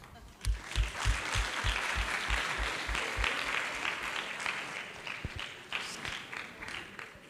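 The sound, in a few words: audience applause for a student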